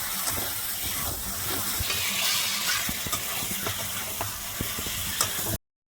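Masala sizzling and frying in oil for a mutton curry, a steady hiss with scattered stirring scrapes and clinks, close and continuous before cutting off abruptly at the end.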